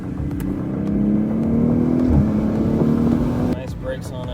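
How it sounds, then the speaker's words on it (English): Audi RS5 engine revving on a downshift, a loud, close droning note that climbs and blips before cutting off abruptly, followed by a quieter settling tone. "Just the downshift, just hear it"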